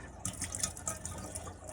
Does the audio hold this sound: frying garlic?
no